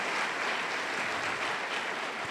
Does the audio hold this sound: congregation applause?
yes